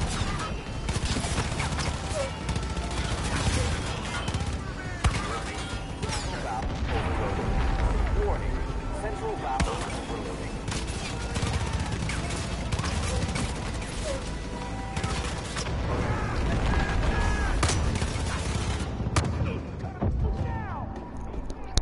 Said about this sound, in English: I shot him with a shotgun up close.